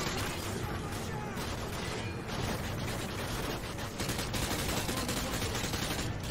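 Dense, loud gunfire fills a firefight in the Call of Duty Modern Warfare 2 campaign, with overlapping bursts and crashes running without a break, and someone talking under the din.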